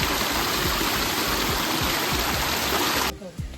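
Water rushes steadily over rocks beside a rocky mountain trail on a fort route, a loud, close, constant broadband flow that drops away abruptly near the end.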